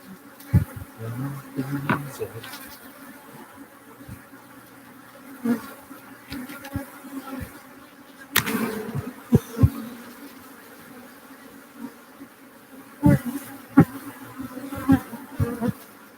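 Steady buzzing of many honey bees up close, with scattered clicks and bumps over the drone.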